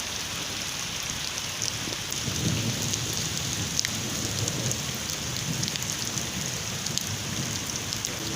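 Steady rain in Lahore hisses throughout with low rumbling swells that suggest distant thunder; no one speaks.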